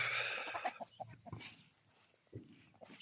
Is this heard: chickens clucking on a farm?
yes